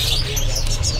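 Small birds, prinias, chirp and tweet continuously at a bird market kiosk, with high, thin calls overlapping close by against a low background hum.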